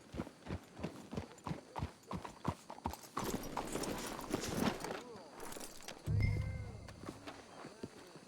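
Horses walk in Red Dead Redemption 2, their hooves clopping in a steady, close rhythm that then turns into a denser shuffle, with game dialogue spoken over it and a low thud near the end.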